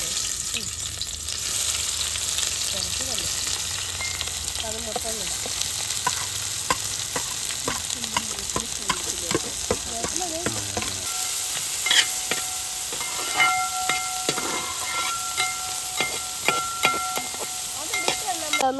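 Onions sizzle and crackle in hot oil, a steady frying hiss with stirring scrapes and a brief spoken remark partway through.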